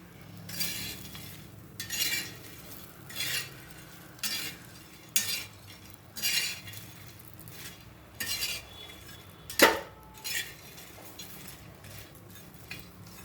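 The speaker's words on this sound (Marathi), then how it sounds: "दोन तीन मिनटानंतर आता हे परत हलवायचं आहे" Crispy pieces of leftover jowar bhakri are stirred in a pan over low heat, with repeated scraping, rattling strokes every second or so and a sharp clink partway through, without speech.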